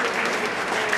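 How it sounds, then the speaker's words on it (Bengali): Audience applause at a floral tribute ceremony, a dense, steady wash of many hands clapping close by for about a second with no pause. "এদিকে জোরে করতালির মাধ্যমে আপনারা একটু সহযোগিতা করেন"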